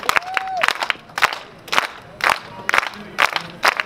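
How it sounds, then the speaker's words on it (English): A beach crowd outdoors claps in unison, a few loud sharp group claps spaced about half a second apart, with scattered shouts and a brief whistle-like tone near the start. "Everyone clap with me."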